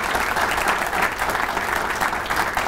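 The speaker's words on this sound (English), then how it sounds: "Give them another round of applause" A roomful of people applauding at a diversity and inclusion talk, steady dense clapping throughout a short burst, fairly close and even in level.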